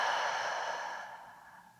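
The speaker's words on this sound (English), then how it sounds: "Inhale through the nose and exhale through the mouth." Slow breathing during a guided relaxation session, a single long soft exhale of breath fading gradually, close and quiet with no talking.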